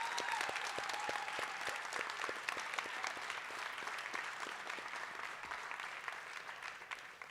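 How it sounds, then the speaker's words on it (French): Audience at a Cégep en spectacle local final clapping for the artists and hosts, a steady, crisp burst of many hands applauding from a hall crowd, fairly quiet and fading slightly at the end. "J'aimerais ça qu'on donne encore une fois une main d'applaudissement à nos artistes"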